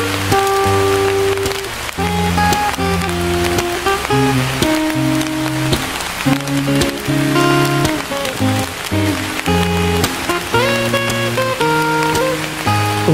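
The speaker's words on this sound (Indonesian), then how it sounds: "Hujannya nggak mau reda," Rain pouring onto a simple tent while eels cook outdoors, a dense steady patter of drops, loud and continuous, under a droning background tone with no talk.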